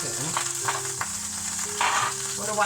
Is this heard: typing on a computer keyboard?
no